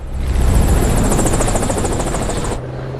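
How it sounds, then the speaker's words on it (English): Helicopter from a James Bond film scene, No Time To Die, a loud, close rotor roar with rapid chopping blade pulses that holds steady for most of the stretch, then cuts off abruptly to a low hum. "Imagine fighting a helicopter."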